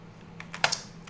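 A few quick keystrokes on a computer keyboard, a handful of light clicks with one sharper tap, close and fairly quiet over a faint electrical hum.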